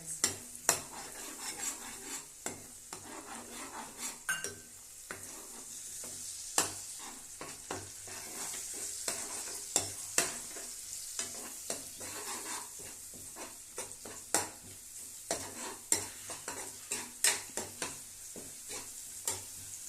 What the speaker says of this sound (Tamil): இந்த முட்டை நல்லா அந்த மசாலாவில் நல்லா ஃப்ரை ஆகும் ஃப்ரெண்ட்ஸ்